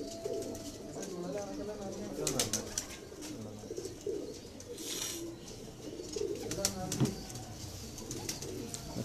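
High flyer pigeons coo in a pigeon-keeping setting in Pakistan, soft repeated cooing mixed with bird calls and brief wing noise, under ongoing talk nearby.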